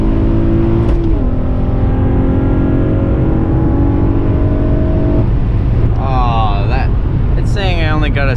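A manual Acura TL launching from a standstill, its engine revving loud and close and holding a steady drone, then climbing sharply through two quick upshifts.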